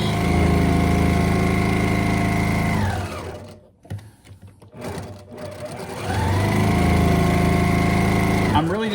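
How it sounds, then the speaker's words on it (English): A sewing machine whirs loudly and steadily as it stitches, pauses briefly for some handling noises, then starts up again at full speed. "trying to get this whole thing flattened with my sewing machine"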